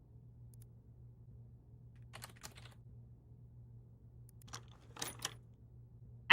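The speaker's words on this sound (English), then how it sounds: "additional clicky-clicky sounds on top of, my own keyboard clicky-clicky" Computer keyboard keys click in a few short bursts of typing, close and soft over a low steady electrical hum, with pauses between bursts.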